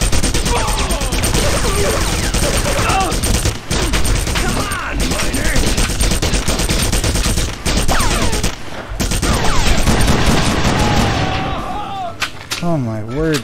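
Sustained, loud gunfire and explosions from the shooter game Red Faction fill a continuous battle din of shots and blasts, while someone talks over it and one voice rises and falls near the end.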